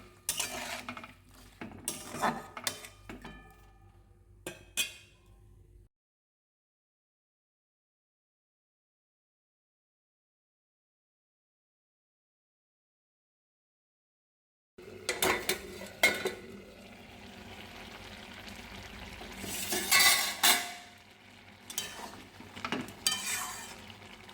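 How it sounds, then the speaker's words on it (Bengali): Cooking food with ginger, green chilli and cumin paste stirred in a pot, with clattering utensil scrapes and knocks and a faint sizzle, then a break of silence and renewed pot and lid clanks, no talking. "এবার একটু নেড়ে চেড়ে সামান্য জল দিয়ে ঢেকে দেবো।"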